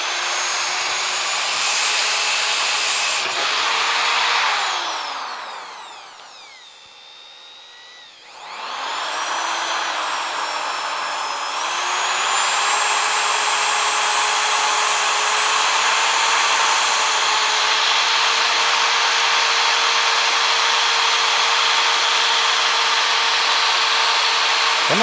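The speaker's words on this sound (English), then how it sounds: "Once I got the bit making a hole, I'm good." A power drill bores holes through a car's rear trunk crossmember. The motor whines close and loud, dips briefly, then spins back up into a long, steady grinding drone.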